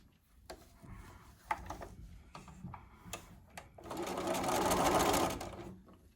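A home sewing machine stitching quilt pieces, starting with a few slow ticking stitches and then running a loud, steady whirring burst for about two seconds before stopping. Up close, with no talking.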